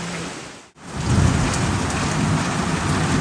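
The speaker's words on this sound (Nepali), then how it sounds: "पानी चाहिँ घनघोर पऱ्यो है लगेर आकाश मिल्केर" Heavy rain pours steadily and loudly, with a deep thunder rumble in the low end after a brief dip near the start.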